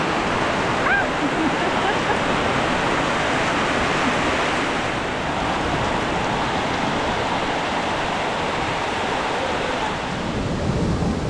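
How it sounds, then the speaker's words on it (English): Gushing Phnom Kulen waterfall on Kulen Mountain near Siem Reap, Cambodia, in the rainy season: a dense, steady roar of falling water fills the whole stretch without letup, close and loud. "Here's the waterfall. It's a gushing."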